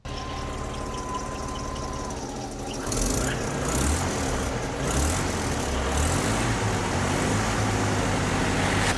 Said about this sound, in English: As you can see, no knocking sounds, no weird sounds, very strong, very solid engine.